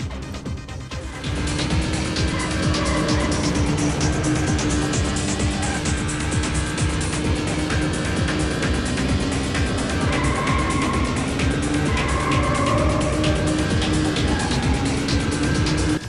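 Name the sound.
car engine sounds from video game Need for Speed III: Hot Pursuit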